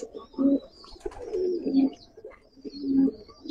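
Giribaj pigeons in a loft coo close by in repeated throaty bursts, with a few thin chirps between them and no talking.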